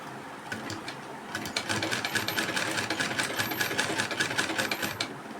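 A sewing machine runs a top stitch along a blouse strip, starting with a few slow stitches and then settling into a fast, even mechanical rattle close by with no voices.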